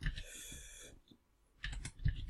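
Typing on a computer keyboard, a quick close run of soft key clicks, a brief pause, then another short burst of keystrokes, no talk.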